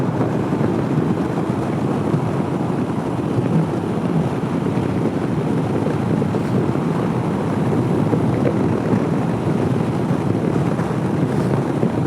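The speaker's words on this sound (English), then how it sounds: "It's windy today" Steady, loud wind roars across the microphone while riding a Honda CB500X motorcycle, a continuous broadband rush with gusty buffeting and no voices.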